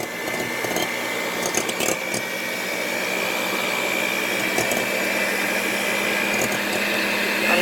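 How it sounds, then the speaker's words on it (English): Electric hand mixer beating vegetable oil and eggs on low to medium speed for a German apple cake batter, a steady faint motor whine with light clatter against the bowl. "just beating it on low to medium right now, taking my time."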